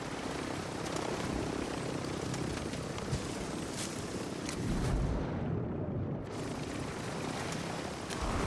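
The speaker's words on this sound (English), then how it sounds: "He's trying to put the chopper over my head." Helicopter hovering overhead in Call of Duty Warzone, a dense, loud rotor roar filling the whole stretch with steady chop and rushing wash.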